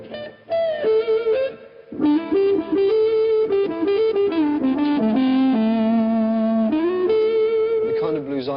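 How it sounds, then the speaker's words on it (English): A 1968 electric guitar plays in woman tone, with the tone control rolled off and the volume full up: a smooth, dark, singing lead line of sustained notes with bends and glides, played alone. "Another characteristic of your particular playing is a kind of whining noise, usually described as woman tone."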